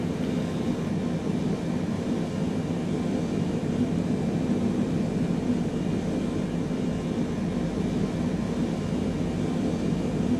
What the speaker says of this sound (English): now we'll go ahead and start engine 1